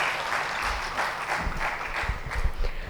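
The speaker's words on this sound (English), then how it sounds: "Do give another round of applause to Etesham Baba." An audience at a rural development conference, Charcha 2024, gives a round of applause, a steady, dense clapping that fills the hall with a few louder low thumps.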